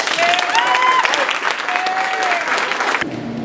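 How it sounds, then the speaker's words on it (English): People clap and cheer for a high school football player at a college signing day, a close, loud burst of applause with whoops over it, cut off sharply near the end. "Clap it up for him."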